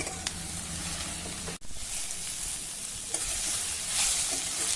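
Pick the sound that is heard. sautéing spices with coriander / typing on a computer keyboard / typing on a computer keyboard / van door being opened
sautéing spices with coriander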